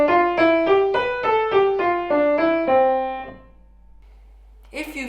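A piano plays a short, simple beginner piece of about eight evenly spaced notes stepping through a melody, clear and close, then rings out into silence before a voice starts speaking.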